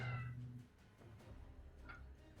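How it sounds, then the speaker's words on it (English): A house cat meows from just outside a closed door: one drawn-out, clear meow at the start, then a shorter, fainter cry a moment later, over a low background hum with no talking. "that's my cat outside my door"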